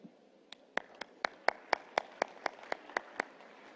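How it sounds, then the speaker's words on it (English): At a parliamentary assembly in Nusa Dua, Indonesia, a handful of delegates clap faintly in a slow, sparse rhythm of about a dozen distinct claps. "That they deserve a round of applause."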